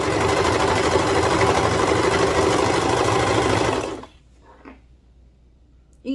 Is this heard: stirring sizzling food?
no